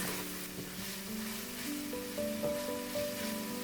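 Steady, dense sizzling of minced meat browning in a frying pan, continuous and close, with a faint tonal hum in the background and no talking.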